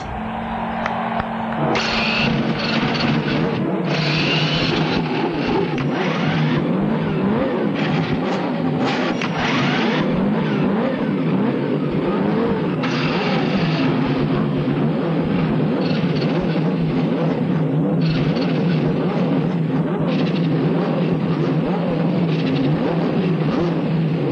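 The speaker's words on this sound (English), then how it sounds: "Gentlemen, start your engines!" Several 1992 CART IndyCar race car engines at the Michigan 500 fire up and rev together, a loud sustained roar with rising and falling revs filling the whole stretch, with crowd and track ambience beneath.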